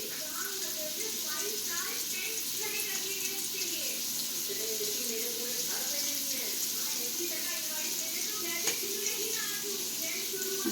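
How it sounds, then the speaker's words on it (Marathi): Fish frying in a pan at home, a steady, even sizzle running throughout at moderate level, with someone talking over it. "मस्त मच्छी फ्राय करून घेते"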